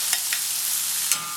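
Chicken and vegetables such as snow peas, kale, mango and basil stir-fried in a pan, with a steady sizzle and a few quick scraping stirs.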